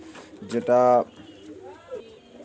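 A pair of pigeons in a loft, one a male with a leg ring, give a single loud throaty coo close by, while someone talks quietly around it.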